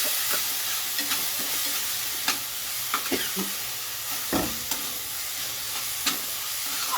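Masala with turmeric and cumin powder and a splash of water fries in a pan, giving a steady close sizzle with occasional stirring scrapes and pops throughout, no voices.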